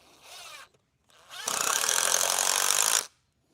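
An impact drill drives screws through a board held flush on a raised garden bed frame. Two short bursts come first, then a loud, close rattling hammer for about one and a half seconds, with no talk over it.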